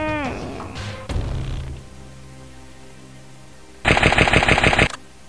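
A short rapid burst of gunfire from an overpowered gun in the flash game Balloon in a Wasteland, loud and machine-gun-like, following some clicks and game tones, with no talk.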